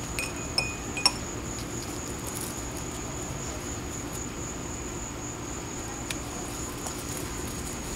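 Metal pruning shears clink against a glass of alcohol a few times while roses are deadheaded outdoors, with sharp faint clinks over steady insect and cricket background noise.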